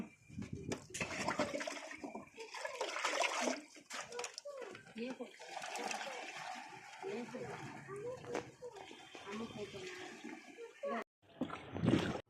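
Biogas slurry is mixed by hand in water in South India, with continuous sloshing and splashing close by under steady talking.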